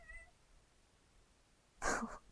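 Two house cats squabbling give a short, loud burst of meowing and yowling near the end, after a faint high cry at the start.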